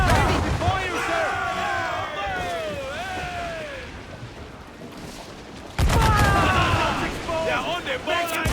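Ship cannons in the Assassin's Creed IV Black Flag naval battle fire in a heavy burst midway, after a stretch of loud, tonal shouting voices and battle din.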